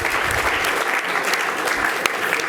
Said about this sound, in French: Bravo, je crois qu'on peut les applaudir.